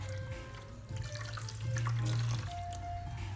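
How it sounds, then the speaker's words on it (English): Water is wrung out of a wet curly wig during washing, a short, close splashing trickle that swells briefly in the middle, with faint tonal hums in the background. "Squeeze out some of the water, just like that."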